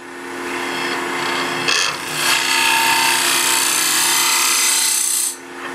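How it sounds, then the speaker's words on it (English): Conventional scraper hollowing side-grain wood, a continuous close, harsh rasping scrape over the steady hum of a running lathe, with no talk. "now we're hollowing with a conventional scraper"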